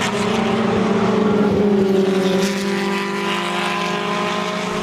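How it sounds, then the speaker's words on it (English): Vintage racing cars climb the hill between turns 9 and 10 at Summit Point, West Virginia, during SVRA races, a loud sustained engine drone with a slowly shifting pitch passing close by. "We're now at the short straight between turns 9 and 10 to watch the cars go up the hill."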